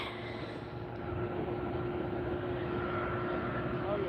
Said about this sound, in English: That's the SkyTeam special livery that just landed, the Delta.